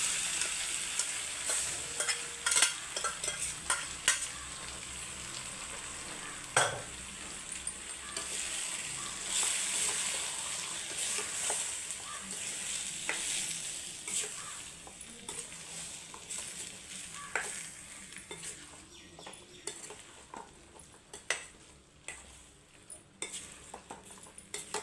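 Chana dal sizzles and fries in a pan with fresh coconut, a soft continuous crackle broken by repeated scrapes and clinks of a stirring spoon against the pan.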